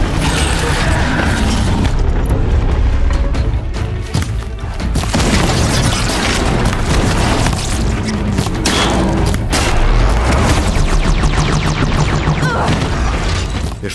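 Explosions blowing parts off a huge machine in the video game Horizon Zero Dawn, a dense, loud barrage of booms, blasts and metallic crashes rolling on continuously with no letup.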